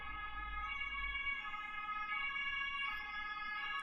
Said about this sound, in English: This ambulance just distracted me so hard.